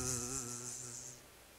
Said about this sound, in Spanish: En aquel patio se comenzó a escuchar un zumbido.